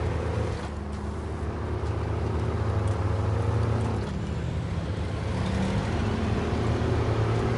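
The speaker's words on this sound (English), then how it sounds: "Different engine sounds as well." Truck engine in the off-road driving game SnowRunner, a steady low droning rumble with faint tonal whine, continuous and fairly loud throughout without talk.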